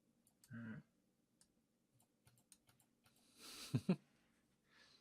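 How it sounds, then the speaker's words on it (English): Computer mouse clicks during an online tabletop game session, scattered light ticks at first and then a quick cluster of louder clicks, with faint brief voice sounds nearby. "You'll hear some furious clicking from me as I reveal this area"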